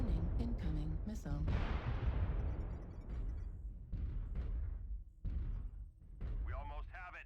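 Incoming missile fire in the mech combat game MechWarrior Online, heavy booming explosions and thuds with a long rumbling decay, mixed with electronic tones and short bursts of synthetic cockpit voice.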